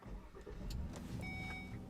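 Car interior road noise while driving, a steady low rumble with a few soft clicks and a faint tonal chime, heard from inside the cabin without talk.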